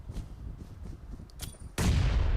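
A grenade exploding in a tournament match of a multiplayer shooter game: faint game noise and a couple of clicks, then a sudden loud, deep blast that rumbles on to the end.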